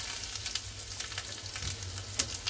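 Whole spices fry in hot oil in a pan, giving a continuous crackling sizzle with a few louder pops near the end, close and steady with no talking.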